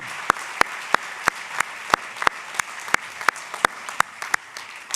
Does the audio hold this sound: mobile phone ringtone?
no